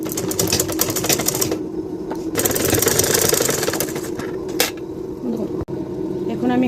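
A sewing machine stitches a lehenga blouse sleeve to the shoulder, running in steady rattling bursts with short pauses between runs while someone talks over it.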